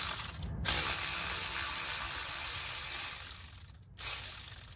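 A cordless power tool spins on an idler pulley bolt in the engine bay of a 2011 Dodge Nitro 3.7, making a loud close ratcheting whir that runs in two long bursts with a short pause between them.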